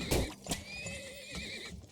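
A single horse in a video game lets out a long, quavering whinny after a couple of thumps, close and clear, with no one speaking.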